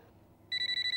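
A telephone starts ringing halfway through after a quiet room tone, sounding a steady, bright electronic double-tone in rapid repeated pulses, close and loud, with no one talking.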